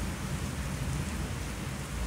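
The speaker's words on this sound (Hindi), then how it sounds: "आप जो है सुन रहे होंगे अल्लाह ताला ने बहुत प्यारी जो है अच्छी सी बारिश भेज दी है" Heavy rain falls steadily nearby in a dense, even hiss with a low rumbling undertone, no voices.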